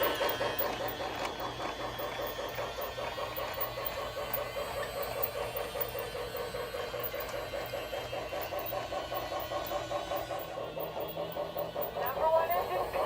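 A Lionel Thomas & Friends toy train runs steadily on its track, a faint continuous whirring motor with rhythmic clicking wheels, heard close and alone throughout.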